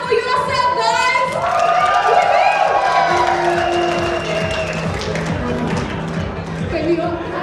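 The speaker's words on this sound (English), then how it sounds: "So clap for yourself, guys." Audience at the Dunkin' Donuts annual rally claps and cheers in a dense, sustained burst of applause and whoops, with voices mingling through the crowd noise before it slowly thins.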